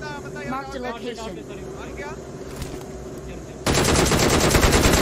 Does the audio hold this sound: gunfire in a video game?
yes